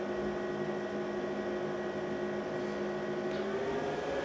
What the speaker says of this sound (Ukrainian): чуємо, станція набирає обороти. Тобто вентилятори почали крутитися ще сильніше